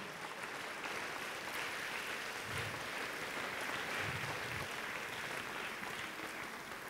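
Audience applause welcoming an interpreter onto the stage at a fashion designer event, a steady, dense clapping that fills the whole stretch at an even level without voices.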